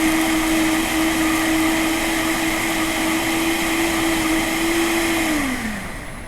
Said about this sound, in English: You basically just blend it for about 30 seconds or so